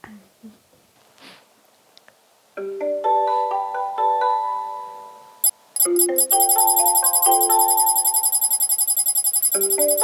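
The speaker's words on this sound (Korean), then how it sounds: "아리야, 숙자 할머니의 어머니한테 전화 걸어줘." A phone ringtone plays as an AI speaker places a call, a melodic chiming tune that stops briefly, then returns as a bright, insistent repeating ring after a short spoken prompt.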